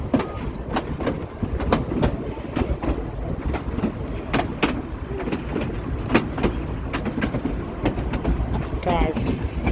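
A narrow-gauge Cumbres and Toltec steam train, D&RGW #484, rumbles steadily along the tracks with a rhythmic clickety-clack of wheels over rail joints and a brief squeal near the end.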